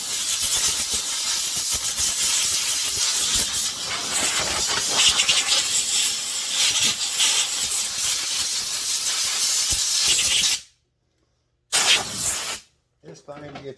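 A filthy Husqvarna backpack blower is sprayed off, a loud continuous hiss of spray running for about ten seconds before cutting out, then a short burst and silence.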